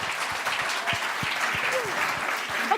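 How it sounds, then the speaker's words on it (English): A big crowd at a startup competition main stage breaks into loud, sustained applause, steady and dense, with a rhythmic thumping beat running underneath. "all of you deserve large applause."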